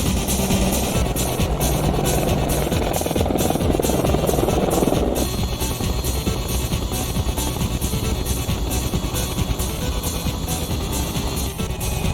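An Apache Longbow attack helicopter flies with a continuous loud rotor thump and turbine whine, steady throughout, with a broader rumble during the first few seconds that then thins out; no voices.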